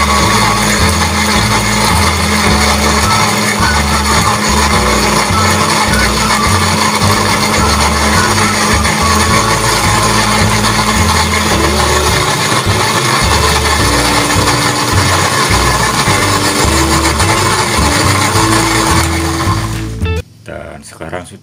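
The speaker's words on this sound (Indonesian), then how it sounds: "Kemudian selanjutnya kita blender." An electric blender grinds fried peanuts, shallots, garlic, candlenuts and water for peanut sambal, a steady loud whirring drone that runs continuously before cutting off abruptly near the end.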